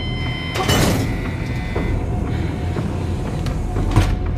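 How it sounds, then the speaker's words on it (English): Heavy doors slide open with a sharp clatter and a long rumbling scrape, followed by continuous muffled mechanical noise and a knock near the end; no voices. "All right, open the doors"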